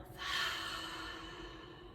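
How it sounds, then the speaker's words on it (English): A single slow breath exhaled through the mouth during a calm breathing exercise, a soft airy whoosh that swells quickly and then fades gradually, close and alone. "and exhale through the mouth."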